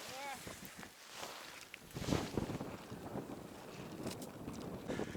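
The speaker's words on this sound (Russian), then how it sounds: "холодно, ветер, короче, вот такая погода, пурга, ничего не видно" Cold wind gusts in a blizzard on a winter burbot fishing trip, rushing and buffeting the microphone with a broad, unsteady roar. Faint muffled vocal sounds come through now and then.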